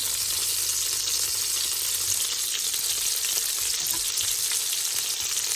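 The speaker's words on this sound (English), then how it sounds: "we're adding our onions in" Onions sauté in a pan after a roast has been removed, giving an even, steady sizzle with faint crackles throughout, nearby and without talk.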